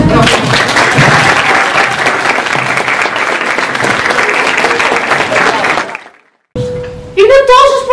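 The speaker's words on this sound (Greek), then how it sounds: "Ας δώσουμε ένα χειροκρότημα στον τρόπο." Audience at a school theatre group performance bursting into sustained, loud applause and clapping for about six seconds, then cutting off abruptly, followed by a short burst of other sound.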